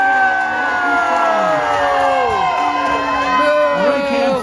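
A crowd at a lumberjack show cheers and shouts continuously, with children's shrill voices and whoops rising and falling over a steady loud roar of audience noise.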